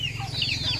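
Chickens cluck nearby in a short burst of overlapping calls over a low background hum.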